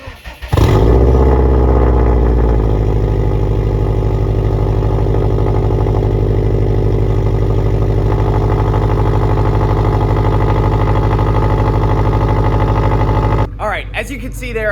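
A car engine with a Borla aftermarket exhaust and upgraded downpipe cold-starts, cranking and firing with a loud roar, then drops into a deep, steady idle through the throaty exhaust for over ten seconds before cutting off.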